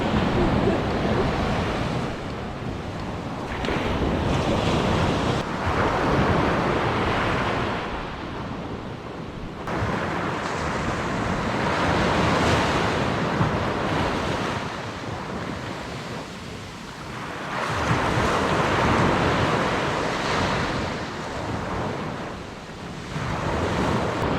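Winter sea surf rolls onto a beach in Chalkidiki, Greece: a steady wash of breaking waves that swells and recedes in slow cycles, mixed with gusty wind buffeting the microphone and no talking.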